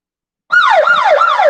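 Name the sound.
siren sound effect loop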